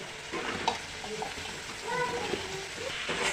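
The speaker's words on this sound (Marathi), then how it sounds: "ग्रेव्हीमध्ये आपण बटाटा आणि कोळंबी मिक्स करून घेतो" Prawns and small potato pieces are stirred into a masala gravy in a pan, giving a steady low sizzle with occasional wet scraping and clinks of a spoon close by, and no one speaks over it.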